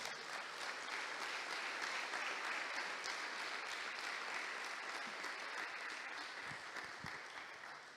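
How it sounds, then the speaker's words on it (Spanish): A church congregation claps loudly for the Lord, sustained broadband applause that holds steady for most of the stretch before gradually thinning and softening toward the end. "Dale un fuerte aplauso al Señor"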